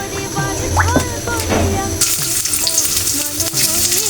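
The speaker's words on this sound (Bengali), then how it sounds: "আমি এটা ভালো করে ভেজে নেব।" Spices and green chili frying in hot cooking oil, a bright crackling sizzle that jumps louder partway through as more goes into the pan, with scattered utensil clinks and faint voice-like tones.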